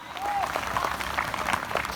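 Light, scattered clapping from an audience at a Hindi poetry recital, brief and fairly faint, with a voice briefly audible.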